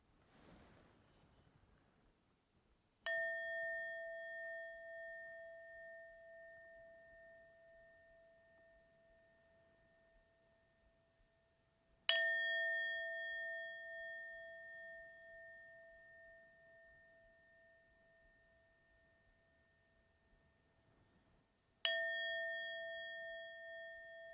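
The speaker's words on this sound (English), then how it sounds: "riding the wave of the sound of the bell" A meditation bell rings three times at slow, even intervals, each strike sharp and clear and then left to decay into a long, fading hum in an otherwise quiet room.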